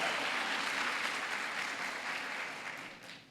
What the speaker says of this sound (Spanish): Un aplauso para esos valientes.